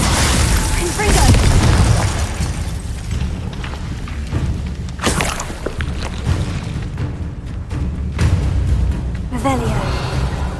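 A Confringo blast spell explodes in the Hogwarts Legacy game, bringing loud booms and bursts with whooshing debris over steady game background noise, a heavy hit near the start and further blasts later.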